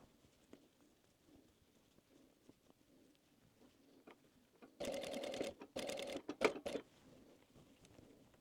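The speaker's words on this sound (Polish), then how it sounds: "I szyjemy blisko krawędzi, tutaj stopka wzdłuż tej krawędzi od całego korpusu bombki." A sewing machine stitches fabric close to the edge of a Christmas bauble cushion, running in two short bursts of rapid whirring after a quiet stretch of faint handling noises.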